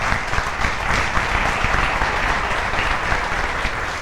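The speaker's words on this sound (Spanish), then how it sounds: "Dale un aplauso a Jesús." A church congregation claps steadily throughout, a thick, even wash of many hands applauding at close range with no pause.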